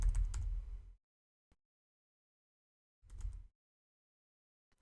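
Two short bursts of typing on a computer keyboard, quick close clacks separated by a few seconds of silence, with a single stray click between them.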